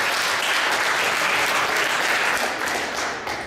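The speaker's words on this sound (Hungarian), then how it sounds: "First of all, give her a round of applause." Audience applause at a stage talk: full, dense clapping from a seated crowd, loud and sustained, easing slightly toward the end.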